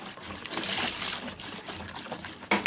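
Milk pours into a bowl holding sugar and instant yeast, a short soft trickling and splashing stream close by that ends in a sharper clink.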